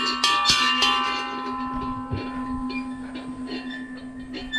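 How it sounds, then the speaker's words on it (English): A bell rings out in a few sharp strikes early on, then its tone hangs and slowly fades, ringing on under faint background noise, in a town on El Salvador's Ruta de las Flores. "I guess I get to ring the bell now."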